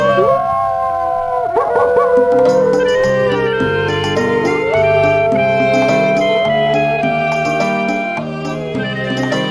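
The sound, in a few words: wolf howling in the video game Quest for Glory 4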